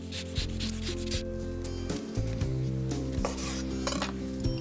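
Lemon zest is grated for a crostata with apples, walnuts and Gorgonzola, making a rapid, continuous rasping rub against the grater that has a tonal scraping ring, close and steady throughout with no talking.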